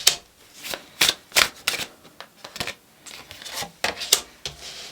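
Tarot cards being shuffled close up in quick riffling bursts with short pauses between them, no talking.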